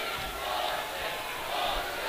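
Students in a high school basketball crowd roar together in a gym. The noise is a steady, loud, continuous wash of cheering and shouting with no pause.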